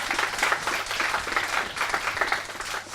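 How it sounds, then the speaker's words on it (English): A room full of people at a money training event in London applauds continuously, a dense, steady wash of many hands clapping together at moderate loudness with no voice on top. "So, can we give her a round of applause"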